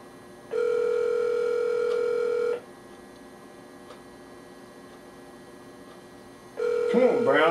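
A telephone call dials out and rings on the line: two long, steady tone bursts separated by a quiet gap, loud and close, with faint room noise and a short voice at the end.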